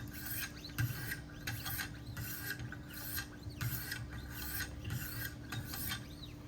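An Emerson knife by Kershaw is sharpened on a Wicked Edge system with 800 grit stones, giving repeated rhythmic rasping strokes, close and steady, with no talk.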